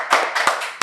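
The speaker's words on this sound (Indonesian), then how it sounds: "Kita kasih tepuk tangan dulu." Brief burst of applause for a guest arriving on a podcast set, a few people clapping close to the microphone in a short, uneven patter lasting under a second.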